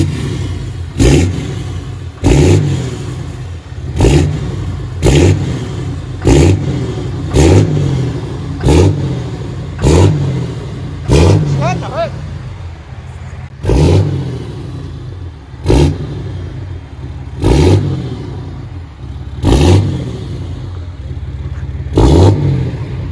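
A 2018 Ram 2500 HD with a 6.7L Cummins turbo diesel and straight-piped 5-inch exhaust with an 8-inch tip revs repeatedly, loud close blips in a regular rhythm with a turbo whistle between some pulls.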